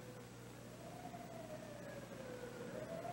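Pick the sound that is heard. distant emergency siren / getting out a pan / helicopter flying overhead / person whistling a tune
distant emergency siren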